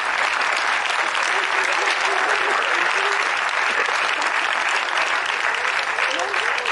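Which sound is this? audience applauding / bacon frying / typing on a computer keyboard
audience applauding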